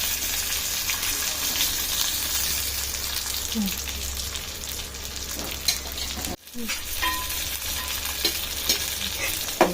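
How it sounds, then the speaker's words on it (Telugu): Fish pieces shallow fry in oil in a pan, giving a loud, continuous close sizzle with occasional stirring and turning scrapes and one brief break midway. "ఈ విధంగా మంచిగా షాలో ఫ్రై చేసుకోవాలి."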